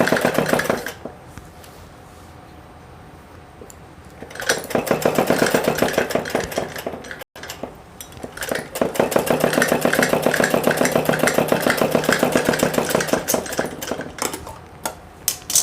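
A sewing machine stitches along the hem of a palazzo, running in two long steady bursts of rapid mechanical chatter with a short pause between them, close and fairly loud.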